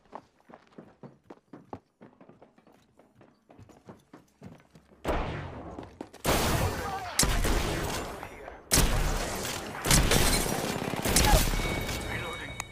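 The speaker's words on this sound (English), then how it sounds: "Opening fire on the enemy." Gunfire in Apex Legends: soft footsteps tapping at first, then loud, heavy bursts of rapid shots break out in several long volleys, close and dense, with a voice speaking at moments.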